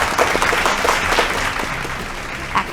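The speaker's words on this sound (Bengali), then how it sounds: "দুজনের জন্যই জোরে হাততালি।" A studio audience at a Bengali family game show claps for two contestants, a brief burst of dense applause that thins out slightly toward the end.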